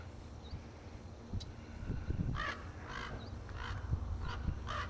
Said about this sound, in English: That's a crow of some kind.